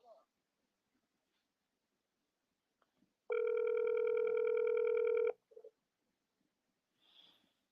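A phone ringback tone sounds once on an outgoing call, a single steady two-second electronic ring burst, clear and close amid otherwise quiet surroundings with faint breathing noises.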